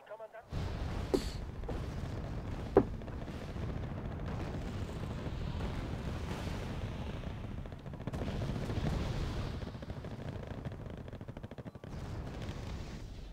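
Artillery barrages and gunfire in the PC wargame Wargame: Red Dragon, a 4v4 jungle battle, rumble continuously as dense, overlapping booms and bursts, with a sharp crack near the start and someone talking over the din.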